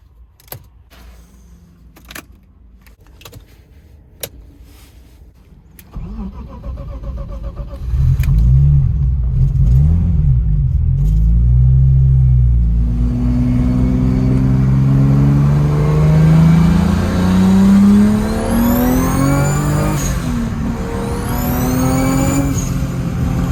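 A car engine with a Garrett GT3076 turbo starts up after a few clicks and key jangles, settles into a loud idle, then revs repeatedly in rising and falling sweeps with turbo whistle, close by.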